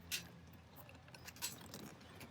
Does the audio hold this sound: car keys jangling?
yes